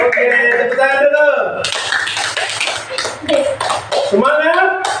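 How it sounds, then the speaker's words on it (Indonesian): Children clap their hands in a classroom sing-along, short bursts of slaps mixed with a teacher's voice and children's singing, fairly close and loud. "Oke, tepuk tangan dulu."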